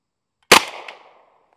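A single sharp shot from an M1 Thompson submachine gun fired at a range target, loud and close, with a short ringing decay afterward.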